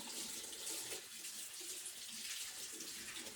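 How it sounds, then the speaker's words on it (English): Tap water runs steadily into a sink while soap is rinsed off hands, a continuous hiss and splash at close range with small shifts as the hands move through the stream, and no speech. "And now I'm going to rinse all the bubbles away."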